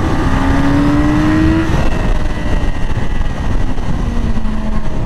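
A 2020 Yamaha R6 sport motorcycle screams up through high revs past 8,000 rpm, its engine pitch rising in a sustained, loud whine, dipping briefly at a gear change and then climbing again, with heavy wind roar underneath.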